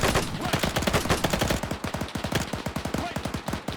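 A Bren light machine gun in the Arma 3 World War II setting fires sustained rapid bursts, dense rhythmic cracks continuing throughout, fairly loud with no talk over it.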